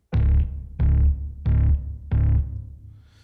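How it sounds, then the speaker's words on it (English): Bass guitar track from a demo mix: four deep, distorted bass notes struck evenly one after another, each ringing briefly before the next, played alone. "And now here we have the bass."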